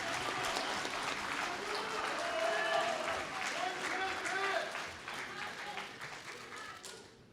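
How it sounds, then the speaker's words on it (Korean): Warm applause greets two candidates entering a party's public interview screening in Gwangju, a dense steady clapping that carries through with some crowd voices mixed in before easing off near the end. "자, 뜨거운 박수로 맞이해 주시면 감사하겠습니다"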